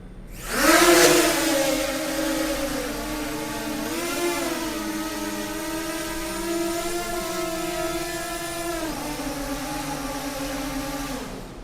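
ES105 MAX GPS drone with brushless motors spins up and flies, a steady multi-toned whine that surges at takeoff and shifts pitch as the rotors change speed, close and continuous with no talking.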